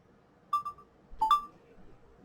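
Mobile phone restarting gives two short electronic beeps about three quarters of a second apart, quiet against a near-silent background.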